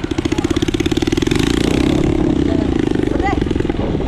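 A new enduro motorbike engine chugs in rapid even pulses, then revs up into a rising, clattery roar close by. Voices call out briefly near the end.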